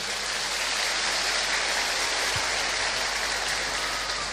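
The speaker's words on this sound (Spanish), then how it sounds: "Démosle un fuerte aplauso pues a este hermano que nos acompaña en la noche de hoy." Loud, sustained applause fills a church congregation's evening service, a dense steady wash of many hands clapping together with no gaps and no clear voices.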